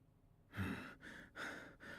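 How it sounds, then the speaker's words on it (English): A character in the video game Digimon Story: Time Stranger pants, three or four heavy, breathy exhales in quick succession, close and soft with no other sound. "Panting."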